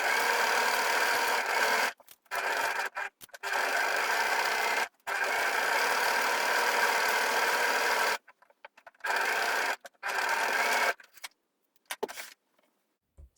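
A sewing machine stitches a facing onto the neckline of a T-shirt in close, loud bursts of steady whirring, separated by brief silent pauses, with several short runs near the end.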